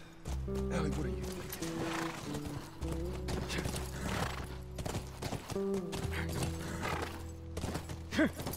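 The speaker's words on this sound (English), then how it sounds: "Horse tracks." Horse neighing and clip-clopping hooves in The Last of Us Remastered video game, with a whinny near the start and another near the end over steady hoofbeats and ambient background.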